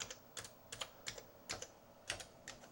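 Fingers tapping keys on a Commodore 128 keyboard, sharp separate clicks in an uneven rhythm, near and quiet, with no voices.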